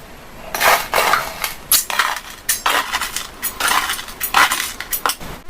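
Pieces of lemon, dried for two days under a fan until crisp, rattle and clatter, probably in a container or jar before grinding into powder; brittle clinking bursts come in uneven handfuls, close and moderately loud, with no talking.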